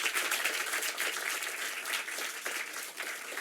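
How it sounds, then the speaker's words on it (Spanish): An audience at a debate applauds in a loud, close, dense patter of many hands, the clapping steady and unbroken throughout. "Aplausos."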